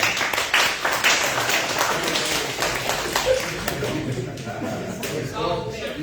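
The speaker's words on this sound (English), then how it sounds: "Give him a round of applause." Applause for a newly introduced city sanitation department director at a Canton city meeting, a steady patter of hand claps filling the room for several seconds, with scattered murmurs underneath.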